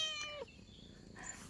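A cat gives a single clear meow, close and fairly quiet, with a falling tone at its end before a soft rustle and a faint second cry.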